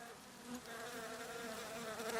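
Steady, close buzzing of many bees inside a tree, a dense insect drone that holds constant throughout with no other sounds.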